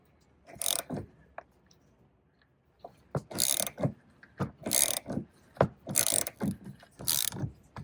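A ratchet loosens a rear shock bolt on a 2007 Honda Fit with repeated bursts of sharp, close clicking. The bursts come in uneven groups, with short quiet gaps between strokes.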